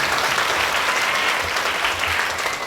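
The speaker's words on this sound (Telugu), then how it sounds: "చప్పట్లు కొట్టండి ఒకసారి." A church congregation at a live service claps together in a sustained, even burst of applause, dense and fairly loud, with no speech over it.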